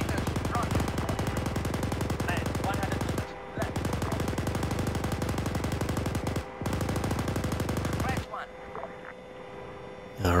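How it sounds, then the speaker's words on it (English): Mortar shells landing amid dense automatic gunfire in a military shooter game on the ArmA 3 engine, a loud, continuous crackling barrage broken by brief pauses, with a voice talking over it. "Here come the mortars."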